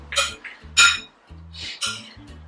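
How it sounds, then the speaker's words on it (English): A whisk clinks against a bowl while beating oil and tomato juices into an emulsion for bruschetta: about five quick, bright metallic taps in an uneven rhythm, close and fairly loud over a low steady hum. "If you whisk a few times like that"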